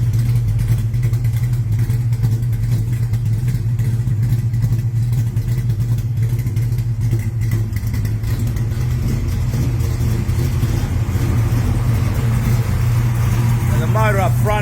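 A 630-horsepower hydraulic roller engine runs with a steady low rumble throughout, loud and close, while a person talks over it.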